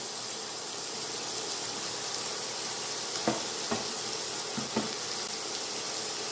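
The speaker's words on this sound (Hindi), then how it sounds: "one and half table spoon vegetable oil को गर्म कर लेना है और उसके बाद में 3/4 कप्स फाइनली चॉप्ड अनियन" Finely chopped onion frying in hot vegetable oil, a steady close sizzle running throughout with a few faint knocks of a utensil against the pan.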